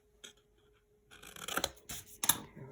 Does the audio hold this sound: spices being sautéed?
no